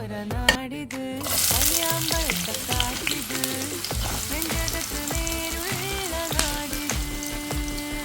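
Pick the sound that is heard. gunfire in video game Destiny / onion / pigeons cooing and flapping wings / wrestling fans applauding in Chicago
onion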